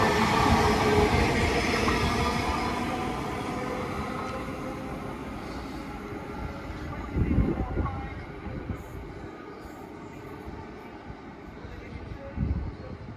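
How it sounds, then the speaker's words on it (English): A Northern class 331 electric train departs from Wigan North Western, heard as a loud rumble close by that slowly fades as it pulls away, with a few clanks and wheel thumps later on. "leaving now is 10:48 Northern service from Blackpool North to Liverpool Line Street via St Helens Central. 331-103."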